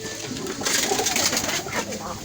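A poultry bird brooding on eggs in a village farm coop coos softly, a low murmuring call heard close amid faint background noise.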